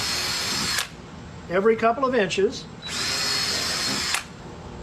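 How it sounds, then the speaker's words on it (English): A power drill bores holes through the hull of a stitch-and-glue kayak in two loud, steady whirring bursts, with someone talking briefly in between. "you're simply going to drill a hole"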